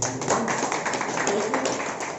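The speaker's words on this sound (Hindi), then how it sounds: "एक बार जोरदार ताली उनके लिए।" Audience applause at an outdoor naturopathy health camp, a dense, steady patter of many hands clapping close by, loud and continuous throughout.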